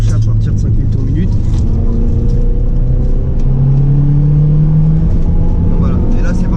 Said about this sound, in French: on entend vraiment le moteur qui commence à déclencher à partir de 5000 tours minute